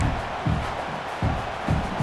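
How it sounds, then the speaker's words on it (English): A home crowd cheering in the video game College Football 26, a loud, steady stadium roar with rhythmic surges, heard without speech. "you just know the home crowd is loving this."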